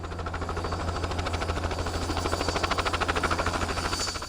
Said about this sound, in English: Ron and Shauna Fournier run Flying to Sea helicopter tours, offering a bird's eye view of Charlotte County and beyond